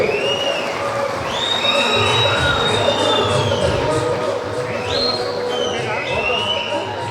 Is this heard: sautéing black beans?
no